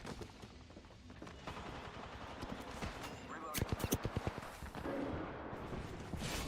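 Rapid burst of gunfire in Apex Legends, a quick run of sharp evenly spaced shots in the middle, heard over game noise and a voice talking.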